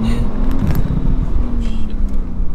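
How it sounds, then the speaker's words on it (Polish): Porsche 911 Turbo S with 580 hp accelerating hard from a launch with some wheelspin, a loud, steady low engine drone heard from inside the car, with a rising tone sustained through the whole stretch. "Trochę mieli kołami przy starcie."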